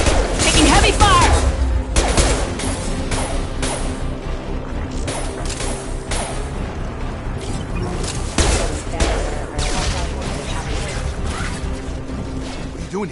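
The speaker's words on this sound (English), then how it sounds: "Taking heavy fire!" Heavy gunfire and impacts in the Mass Effect 2 Remastered video game on PS5, a dense, loud stretch of bursts, crashes and whooshes layered over game music, with a voice speaking amid the fighting.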